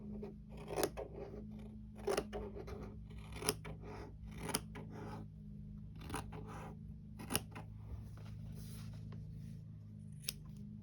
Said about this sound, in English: But I'll just cut all the way across.